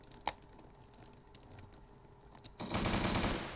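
Rapid automatic gunfire from AK and M4 rifles in the Roblox game Prison Life, with a faint single shot early, then a loud sustained burst of fast shots near the end.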